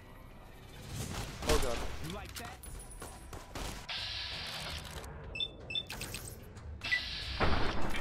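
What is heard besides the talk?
gunfire shooting at player in video game Fallout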